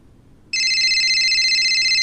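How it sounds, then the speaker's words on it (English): A video game phone ringtone starts abruptly after a moment of near silence and rings loudly and steadily in a bright, continuous electronic trill to the end. "The ringtone soon comes to a stop,"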